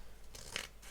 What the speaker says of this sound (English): when I use scissors I always get that little bit at the end